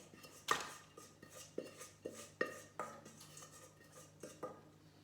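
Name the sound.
flapjack mixture tipped and scraped out of a pan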